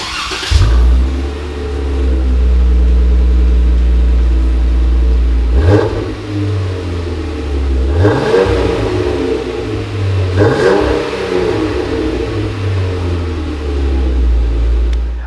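A Jeep Wrangler JK with a Gibson 2.5-inch dual axle-back exhaust starts, settles into a deep, loud idle, then revs sharply three times with a throaty exhaust before dropping back to a rumbling idle.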